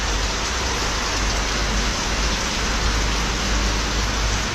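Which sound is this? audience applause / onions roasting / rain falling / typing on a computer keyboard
rain falling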